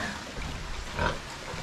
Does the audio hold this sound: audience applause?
no